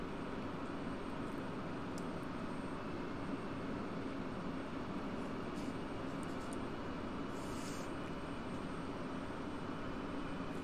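In the DCS flight simulator, an F-16C auxiliary power unit runs with a steady, unbroken roar and hiss at an even level throughout, with no talk over it.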